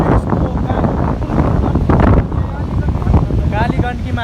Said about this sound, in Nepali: हावा त्यस्तो चलेछ होइन